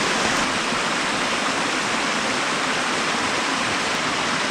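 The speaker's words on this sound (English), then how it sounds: "A little waterfall." Water pouring out of an abandoned coal mine and spilling over a small waterfall, a steady, loud, close rushing roar that holds unbroken throughout with no voices.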